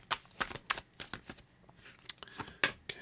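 Tarot cards are shuffled by hand at close range, giving quick crisp riffling snaps and soft slides in an irregular rhythm, fairly quiet with no talk.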